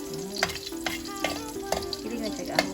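Garlic frying in a pan gives a steady sizzle broken by regular clicking stir strokes, with a faint tonal voice or hum underneath.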